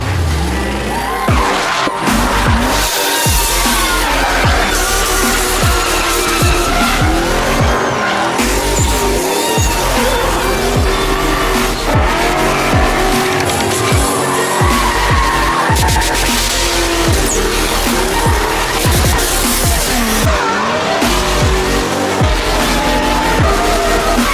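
Drift cars slide through a run at the Drift Open competition in Toruń. Tires shriek continuously over a loud, roaring engine that rises and falls as the cars skid sideways, close and intense throughout.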